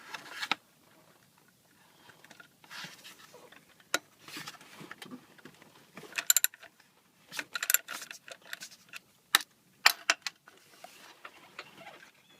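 A ratchet clicks in short bursts while loosening the 10mm nut on a spark plug coil pack of a 2009 Honda Pilot, quiet and close, with scattered taps and pauses.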